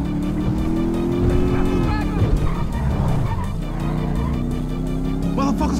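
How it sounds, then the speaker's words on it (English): A big 140-cubic-inch motorcycle engine in GTA 5 drones steadily at high revs, its tone rising and dipping slightly, loud and close over the game's background noise. "That's a monster fucking bike you riding,"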